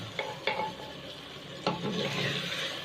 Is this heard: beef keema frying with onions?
yes